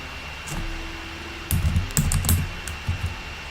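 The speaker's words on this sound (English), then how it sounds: "Well, it's okay, I'll type it over here." Quick bursts of typing on a computer keyboard at a desk during a live stock-trading stream, close clicky keystrokes in short clusters after a quiet start, with no talking.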